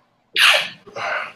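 A single loud, close sneeze with a sharp burst followed by a second breathy exhale, no talking.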